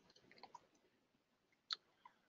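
Soft, sparse computer mouse clicks while working in design software, a few faint taps with one sharper click near the end, heard close in a quiet room without speech.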